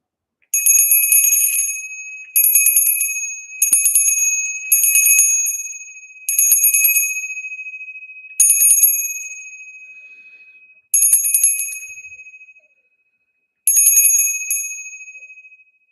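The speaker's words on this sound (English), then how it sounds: "And then we have the copper bell." A copper bell is struck eight times in a slow, even series, each bright ring standing alone and decaying over a second or so before the next strike.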